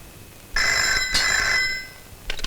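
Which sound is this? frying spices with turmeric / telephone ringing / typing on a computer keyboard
telephone ringing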